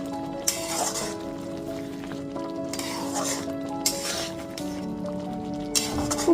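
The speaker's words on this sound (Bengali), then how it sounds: "তারপর খুব ভালো মতো একটুখানি মিশিয়ে নিচ্ছি।" Raw mango pickle being stirred in a pan with roasted spice mix over a gas flame: a soft, continuous sizzle broken by occasional clinks and scrapes of a spoon against metal, under a steady background hum.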